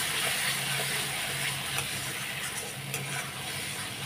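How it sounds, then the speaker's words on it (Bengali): Spiced fish curry masala of rohu fish oil being stirred and sautéed in a pan, a continuous close sizzle with scraping strokes of a spatula repeating steadily. "এখন কষিয়ে নিই।"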